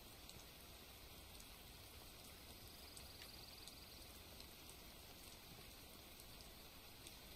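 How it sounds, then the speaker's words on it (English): Steady, even hiss of rainfall in the video game Greenville, with faint scattered ticks, continuous and unchanging throughout, no voices. "It still sounds like it's raining."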